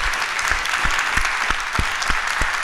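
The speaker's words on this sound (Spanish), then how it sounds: "les damos un aplauso para cerrar esta mesa." An audience at a forum panel on psychoactive drugs and HIV claps to close the session, a moderate, fairly distant round of applause with a few louder individual claps.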